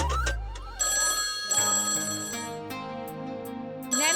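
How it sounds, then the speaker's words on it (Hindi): A telephone rings indoors with a melodic electronic ringtone, several bursts of bright repeating tones in quick succession, heard close and clear with no talking. "ये हमारा फोन है, 2 बार बज के कट हो जाता है।"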